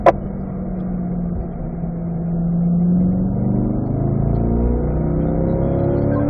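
Corvette at a track-day owner school pulling hard out of a corner, engine note climbing steadily through fourth gear, loud and close with a rising harmonic whine and no talk.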